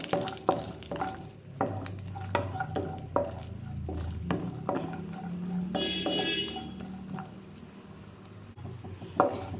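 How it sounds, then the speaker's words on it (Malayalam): A handful of cashews sizzles in hot ghee for carrot halwa while a spoon scrapes and stirs the pan in repeated clinks and scrapes over a steady frying hiss, up close with no talking. "നെയ്യ് ചൂടായി വരുമ്പോൾ ഇതിലേക്ക് ഒരു പിടി കശുവിൻ്റെ പരിപ്പ് ഇട്ട് കൊടുക്കുന്നുണ്ട്"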